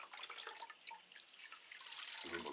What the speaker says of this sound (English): Give them a good watering, because they like a good watering, the Cattleyas